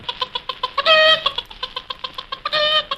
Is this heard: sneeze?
no